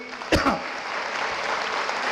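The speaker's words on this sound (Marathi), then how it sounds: "एकदा टाळ्या होत्या भास्कर जाधव सरांसाठी" Brief burst of audience clapping for Bhaskar Jadhav at a Marathi public speech, a short crowd applause rising and fading within two seconds.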